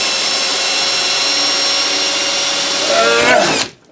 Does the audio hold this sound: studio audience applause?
no